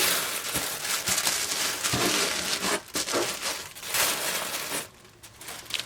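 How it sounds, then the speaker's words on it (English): Close, continuous crinkling and rustling of tissue paper being folded around a doll while packing a box, with irregular bursts and brief pauses, no speech. "I'm just gonna make some noise and wrap her in tissue paper"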